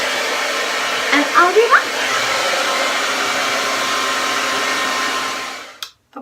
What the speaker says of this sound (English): here is my cool shot button. So I'm gonna go ahead and give this a blast,